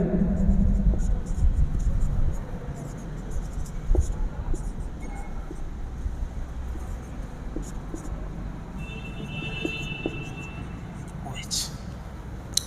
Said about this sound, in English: let's say I am writing over here